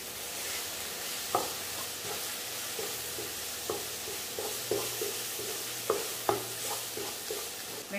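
Okra with masala frying in a pan is stirred with a spoon. Soft scraping knocks come at an irregular pace over a steady, quiet sizzle.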